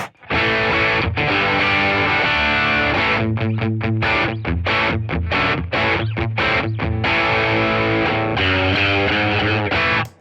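Electric guitar played through a Pugilist Distortion into a Fender Tone Master Deluxe Reverb amp, heavy distortion with thick sustained chords followed by a choppy, rhythmic riff, loud and up close with no talking.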